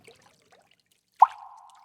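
A single soft splash of water as someone floats in a pool, a lone plop followed by a faint lingering trickle, otherwise quiet.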